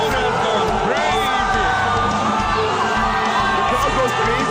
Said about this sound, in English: The crowd has gone crazy.